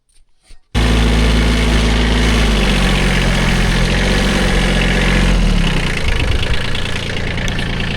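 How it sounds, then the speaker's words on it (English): A tractor fitted with a grader blade starts up abruptly and runs loud and close at a steady idle, with a deep knocking diesel-like rumble that eases slightly toward the end. "The grader blade is wider than the tractor Prescott"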